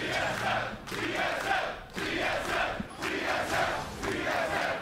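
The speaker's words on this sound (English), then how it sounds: "TSM chants always strong here." Arena crowd at a 2015 NA LCS Spring semifinal League of Legends esports match chanting for TSM, a loud, steady rhythmic chant in repeated waves that fills the hall.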